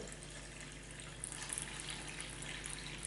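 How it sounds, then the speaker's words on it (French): Water trickles and splashes steadily into flour in a salad bowl while making fougasse dough, a quiet continuous pour with no voices. "On met de l'eau."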